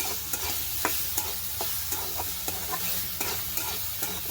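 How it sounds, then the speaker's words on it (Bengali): Kalmi greens stir-fried in a pan, a continuous close sizzle broken by regular sharp taps and scrapes of the spatula, with no talking. "এখন আমি কমলি শাক রান্না করছি।"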